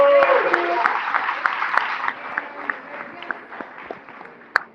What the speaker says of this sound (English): Applause to Michael and Ken.